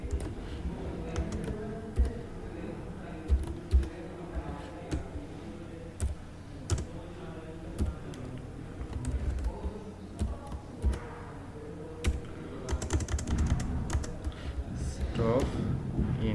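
Keys clack on a computer keyboard while a FORTRAN program is entered, irregular bursts of close, moderate clicks with pauses between, and someone talks quietly underneath.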